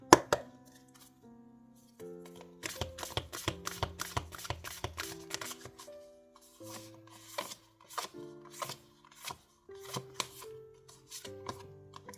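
A deck of oracle cards for a tarot reading is shuffled in rapid, crisp riffling bursts with short pauses between them, close-up over soft background music.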